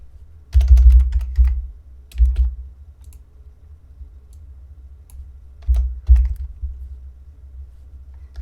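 Typing on a computer keyboard in short clustered bursts of clicks and taps, close and clear, separated by quiet pauses.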